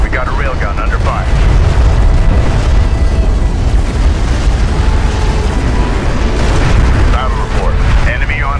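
Destroyed cruiser exploding in the Homeworld: Deserts of Kharak game, a loud sustained roaring blast with crackling bursts under radio-style voices and battle chatter.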